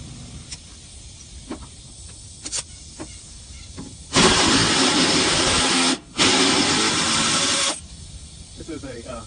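Aerosol can of rust breaker spraying onto the gas tank and muffler of a 1985 Chevrolet C10, two long loud hissing bursts separated by a brief break, preceded by faint clicks.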